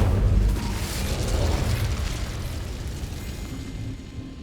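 A fire spell cast in Hogwarts Legacy: a loud, roaring burst of flame and rumbling boom that sustains and slowly fades over several seconds, with no talk over it.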